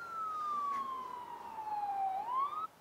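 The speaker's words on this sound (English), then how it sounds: "got some dag blasted siren in the background making racket" An emergency siren wails in the background, a single steady tone gliding slowly downward then rising again before cutting off abruptly, distant but clearly audible.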